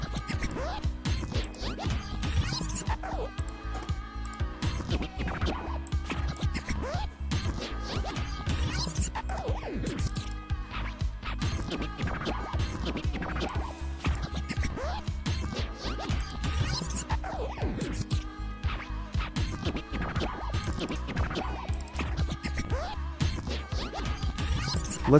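Whack-a-mole video game with moles being smashed: rapid, repeated hits and crashes over dense, continuous game music, steady and loud throughout.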